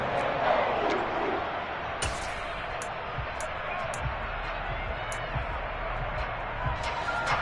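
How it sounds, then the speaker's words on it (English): A stadium crowd in an American football video game roars in a broad, steady wash of cheering and noise ahead of a big third down, with a commentator talking over it and a few sharp clacks. "The crowd getting into it as we come up on a big 3rd down."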